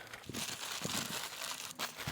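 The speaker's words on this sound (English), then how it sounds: "I'm going to wrap that up in a bit of butcher's paper." Close, crackly butcher's paper rustles and crinkles as a leg of lamb is wrapped, with a few soft thumps and no talking.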